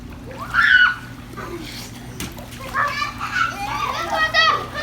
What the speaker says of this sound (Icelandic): Þú skvettir á mig, þetta er ískall.